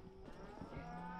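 A cow lets out a single drawn-out moo, loud and close, during a remote Montana cattle drive, with open-air background noise around it.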